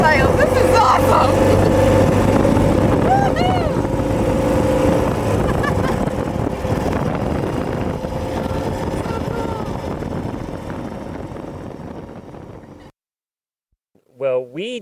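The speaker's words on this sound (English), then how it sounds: "It's a sidecar on something called a Ural" A Ural motorcycle with a sidecar rumbles steadily up close with loud engine and wind roar. The engine cuts out near the end, leaving brief silence, then a voice comes in.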